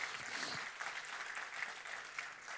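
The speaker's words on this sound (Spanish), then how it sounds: "Dele un fuerte aplauso al Señor si usted lo cree." Church congregation applauding for the Lord, a distant and fairly faint steady spatter of many hands clapping at once, continuing evenly without voices on top.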